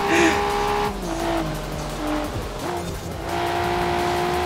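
Car tyres squeal as a car skids off a corner in the racing game Forza Horizon 4, a steady loud engine drone running throughout with a brief skid sound in the middle, and no talk.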